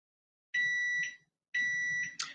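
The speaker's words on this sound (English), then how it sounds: "that's the timer" A kitchen timer alarm sounds in two loud, steady electronic beep bursts of about half a second each, close by in a quiet kitchen, with a brief extra tone at the end.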